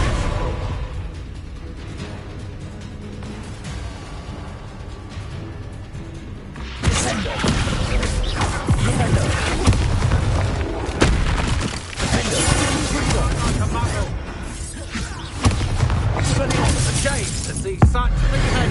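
A Bombarda explosion spell in the Hogwarts Legacy video game goes off as a sudden loud boom, followed by sustained crashing and rumbling combat noise with voices talking over it.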